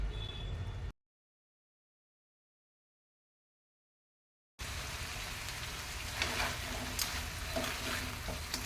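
Crab masala stirred and frying in a pan gives a steady sizzle with scraping stir sounds, cut off by a few seconds of dead silence before resuming.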